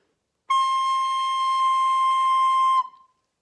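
A single high C played on a recorder rings out as a clear, steady whistle-like tone held for just over two seconds, starting cleanly and stopping with a brief tail, alone in silence.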